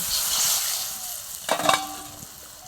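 Potatoes frying in a pan with ground spice paste for a tangra fish dish, a steady hiss that flares into a brief, louder sizzle and bubbling burst as water is poured in, then settles back.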